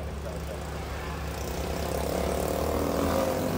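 A loud, steady engine rumble comes from the inline-six of a Tuksedo Studio 300 SL Gullwing replica, a steady close-up drone that swells slightly toward the end.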